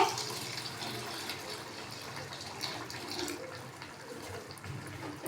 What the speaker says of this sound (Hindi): इसमें हम दूध डाल देंगे।